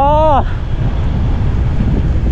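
Strong, cold wind gusts across an open outdoor spot, roaring steadily into the microphone with a low rumbling buffet. A short tonal voice sounds at the very start before the wind takes over.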